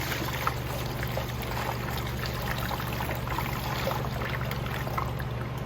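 Water pours steadily into a wheeled Mr Clean mop bucket, a continuous close splashing and trickling that holds even for several seconds with no talk.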